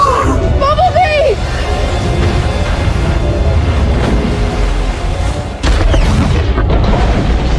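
A dramatic explosion effect, with a dam breaking and a large cargo ship's impact, as a continuous loud roaring rumble. It carries sweeping tonal effects early and a fresh surge of crashing noise near the end.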